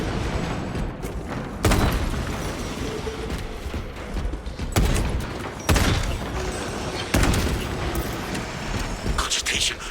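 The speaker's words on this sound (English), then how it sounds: "Frag grenade deployed!" A frag grenade blows up in the grim sci-fi shooter Warhammer: Space Marine 2, one booming burst among several sharp blasts that punctuate a continuous din of combat noise and machinery.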